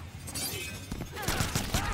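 Rapid bursts of machine gun fire ring out during a Mortal Kombat X tournament fight, rattling in quick repeated volleys over a noisy game mix with no clear talk.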